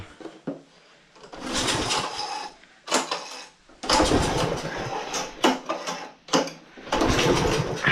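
A Husqvarna lawn mower engine being pulled and coaxed to start, with repeated bursts of sputtering engine noise separated by short pauses, fairly close and uneven.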